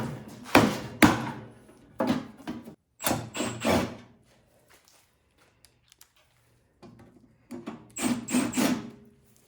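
Metal pan of a snow blower being fitted back into place during maintenance, a series of loud knocking and thudding bursts with scraping, a quiet pause in the middle, then more clattering thumps near the end.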